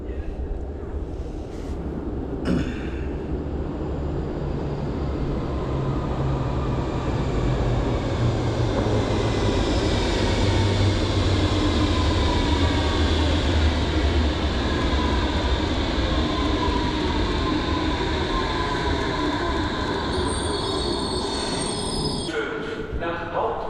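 A Berlin U-Bahn train at the Museum metro station rolls past loudly and steadily, its wheels squealing in long rising tones over a deep rumble for the whole stretch.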